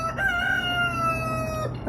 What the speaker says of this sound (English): 3 roosters right behind me, and they want to be out here with me